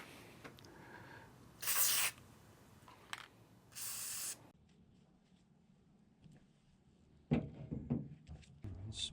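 Aerosol can of white lithium grease sprayed onto a soaked, degreased door latch assembly from a '73 Ford Econoline, two separate hissing bursts, each about half a second, close by, followed by quieter handling clicks and knocks.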